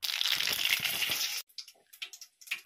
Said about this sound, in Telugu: ముందుగా ఇందులో ఆవాలు అయితే వేసుకుందాం.